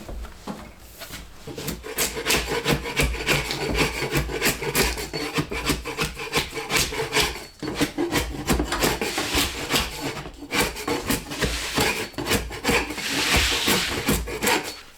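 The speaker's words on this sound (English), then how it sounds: "started scraping up the floor" Loose flooring is scraped off a mobile office trailer floor in a rapid series of harsh, close scraping and rasping strokes that continue with only brief pauses.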